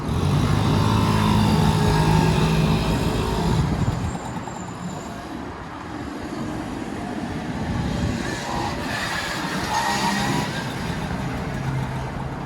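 A small Honda Motocompo folding scooter being ridden, its engine droning loudly and steadily throughout, with the drone dipping slightly midway before carrying on.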